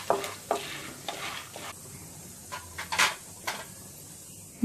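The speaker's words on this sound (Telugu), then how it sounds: "ఫ్లేమ్లో కలుపుతూ కొంతసేపు వేయించుకోవాలి" Popcorn kernels fry in a pan, a soft crackling sizzle with a series of clattering scrapes and taps as they are stirred, close by and uneven in rhythm.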